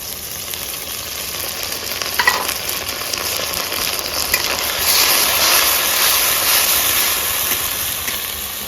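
Ginger paste frying in mustard oil with cumin seeds and lightly fried chopped tomatoes, stirred in a pan while cooking a Bengali soybean and potato curry; a steady close sizzle with a few scraping stirs, no talking.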